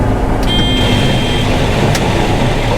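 A vehicle engine held at full throttle, a loud continuous low roar that stays constant throughout, with a faint high whine and a brief click rising above it.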